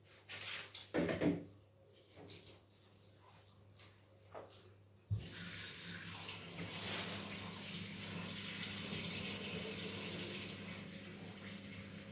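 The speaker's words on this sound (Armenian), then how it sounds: "Ջուրը լցրեցիր։ Ջուրը լցնում" Water poured while cooking a dish of Sig fish and potatoes: faint clatter and handling knocks first, then a sudden steady rush of water continues to the end, moderately quiet and with no talk.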